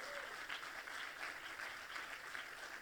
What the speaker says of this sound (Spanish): Dale ese aplauso fuerte a Jesús.